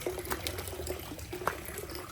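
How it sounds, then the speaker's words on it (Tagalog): Water poured into a water dispenser makes a steady, faint trickle and splash with a few small gurgles, heard alone over a quiet room background. "lagay ko ito sa water dispenser"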